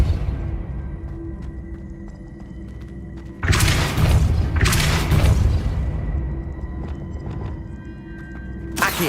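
Depulso spell cast in Hogwarts Legacy: sudden booming blast with a whooshing burst, a second hit shortly after, then a fading rumble and a brief final thump over a steady game background.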